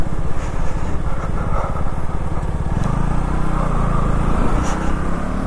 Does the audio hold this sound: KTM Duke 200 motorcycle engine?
yes